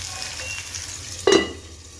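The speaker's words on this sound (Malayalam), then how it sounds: "ഇത് നമുക്ക് അടച്ച് വെച്ച് കുറച്ച് കുക്ക് ചെയ്യും" Paneer and tomato sizzle in a covered pan, a soft steady frying hiss with a brief louder clatter partway through, close and without talk.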